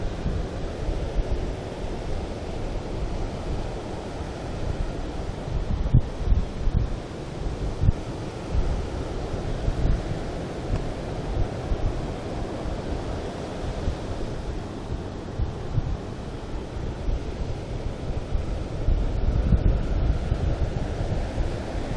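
Wind blows at a beach on Florida's Space Coast during the Fiona swell, a steady rough roar buffeting the microphone, with surf washing underneath, gusting stronger toward the end, with no voices.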